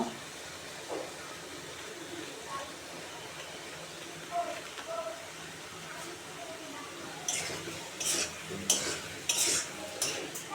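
Egg masala being stirred and sautéed in a pan with Kashmiri chilli powder: soft scraping and low hiss, then a cluster of sharp metallic clinks near the end. A voice is faintly present.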